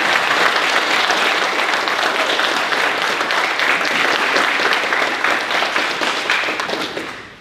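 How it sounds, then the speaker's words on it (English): Sustained applause from an audience at a U.S. Marine colonel's retirement ceremony at Camp Lejeune, steady and dense throughout before tapering off at the end. "let's start with a round of applause"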